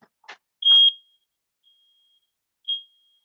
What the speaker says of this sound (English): Just had a smoke alarm go off.